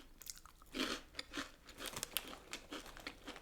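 Cheese-flavoured corn puff crisps crunch loudly and closely in irregular bites, followed by softer chewing and a little bag crinkle, with no talking over the sounds.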